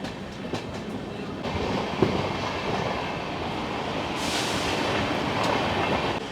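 Train rumbling past with steady broadband rail noise and clacking, the sound swelling and brightening toward the end, loud and continuous with no talk.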